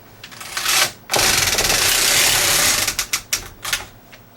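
A knitting machine carriage is pushed across the needle bed while knitting a hat, giving loud rattling, clattering passes: one short sweep, then a long sustained run, then several quicker bursts.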